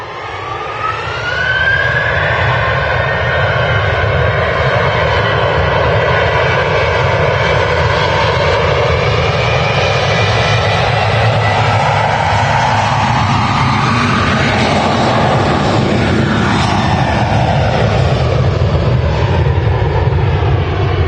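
A TUI airliner departs Manchester Airport bound for Hurghada, its jet engines roaring loud and steady for a long stretch, a rising and then falling whine sweeping through the drone as it passes.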